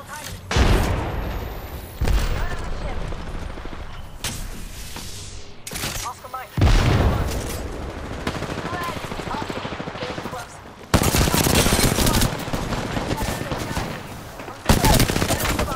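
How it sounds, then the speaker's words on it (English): Enemy gunfire in the video game Apex Legends crackles in loud repeated bursts and rapid automatic volleys, close and sharp, with several separate salvos and voice chatter mixed underneath. "The enemies are shooting at me."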